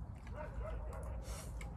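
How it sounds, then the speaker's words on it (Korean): A dog barks and yips outdoors near a rural house, short repeated barks at moderate distance blending with low rumbling background noise and faint voices. "강아지가 너무 짖는데."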